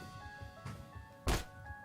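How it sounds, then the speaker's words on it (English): A soundboard punch sound effect plays over a quiet tabletop role-playing session, with a soft thump followed a moment later by one louder, sharper hit. "It's a terrible punch sound."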